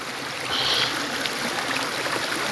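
River stream water flows in a continuous, fairly loud rush with a faint trickling texture, with no voices.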